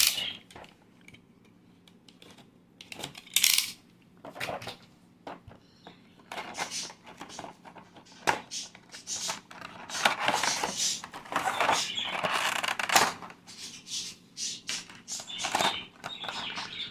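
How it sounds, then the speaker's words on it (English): An SH Figuarts KaioKen Goku action figure is unboxed, with intermittent crinkling plastic, cardboard rustles and small clicks and taps in bursts, close and fairly quiet. "let's unbox this figure"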